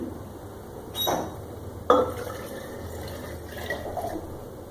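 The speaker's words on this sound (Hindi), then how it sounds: "साथ ही इसमें डाल देंगे ठंडा पानी" Cold water splashes and pours into a blender with cream in short bursts, with a squeaky, trickling fill and faint drips between, close by and fairly quiet.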